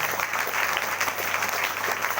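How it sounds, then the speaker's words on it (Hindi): A church congregation at a Sunday service claps loudly, a dense, continuous burst of applause filling the room without speech. "तो इन लोग का जोरदार ताली से स्वागत करें"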